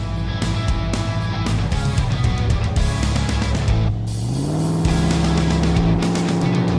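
Racing truck engines roar steadily and loudly throughout, with revving pitch shifts and a rising drone near the end, during a kids' cheering race game.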